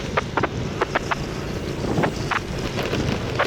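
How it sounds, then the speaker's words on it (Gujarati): Strong wind buffets the microphone while riding out onto a main road, a continuous roaring rumble with sharper gusty bursts scattered through, loud and close, with no voices. "પવન વધારે છે એટલે અવાજ નહીં આવતો હોય તમને થોડો થોડો"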